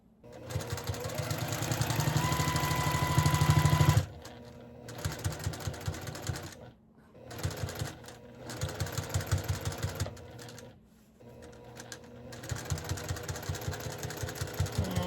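A sewing machine stitches fabric in several bursts of rapid needle rattle, one longer run followed by shorter back-stitch passes with brief pauses between, close up and fairly quiet with no talk.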